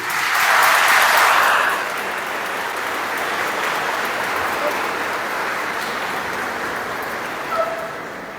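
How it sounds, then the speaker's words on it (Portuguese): A burst of clapping from a church congregation during Mass rises briefly, then fades into a soft, continuous wash of scattered applause and room noise. "Vamos aplaudi-lo."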